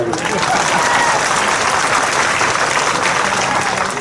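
Steady, dense applause from a large crowd at an outdoor political rally led by a chief minister, continuous and loud throughout with no break.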